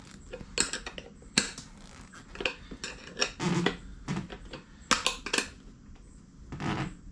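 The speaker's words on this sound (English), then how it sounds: "snug them on up a little bit with a wrench" A wrench snugs the bolts on a Kawasaki Vulcan 900 Mustang touring seat, giving close, clustered metallic clicks, ratcheting and clinks in irregular bursts with no talking.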